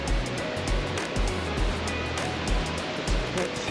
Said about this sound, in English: You can look right down the gorge and see the waterfall all the way.